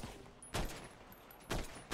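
Gunfire in the GTA video game: a few sharp, loud bursts of shots stand out against a steady background of game noise, arriving in short clusters near the start, middle and end.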